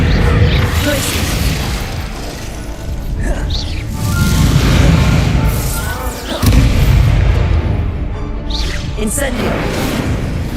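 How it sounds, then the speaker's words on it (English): The Glacius freezing spell is cast in the Hogwarts Legacy video game, a series of heavy booms and thuds with whooshing magical effects over dense game audio and voices. "Glacius!"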